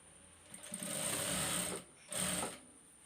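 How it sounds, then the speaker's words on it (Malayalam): A sewing machine stitches a kids' sharara dress in two close, whirring bursts, the first longer than the second, separated by a brief pause. "താഴെ വരെ സ്റ്റിച്ച് ചെയ്തെടുക്കാം."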